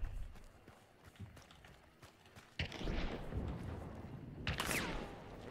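Gunfire in the video game Hunt Showdown: a few sharp shots crack out, two louder bursts standing out above a busy, rumbling game backdrop with faint footsteps, no clear talk.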